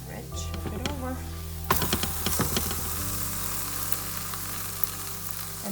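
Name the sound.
methi paratha frying in butter, flipped over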